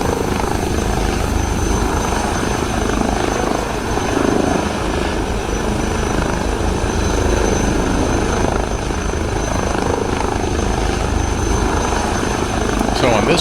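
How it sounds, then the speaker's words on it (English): A helicopter engine in Microsoft Flight Simulator 2020 runs as a steady, loud, continuous whine and rotor roar throughout, with no pauses. "I just want to get the helicopter basically set up and ready"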